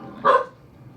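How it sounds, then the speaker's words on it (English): A single short, close bark from a dog, loud and clear against a quiet background. "What are you barking at, Drew?"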